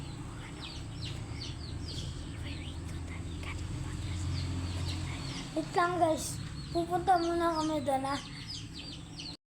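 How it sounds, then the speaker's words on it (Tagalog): Chickens cluck and squawk nearby on a farm, louder toward the end, while someone talks over a low background hum. "At papakita ko sa inyo yung mga manok namin."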